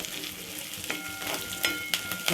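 Curry leaves sautéing in hot oil with onion and garlic for a curry leaf gravy, a close, continuous frying crackle broken by spatula scrapes and stirs.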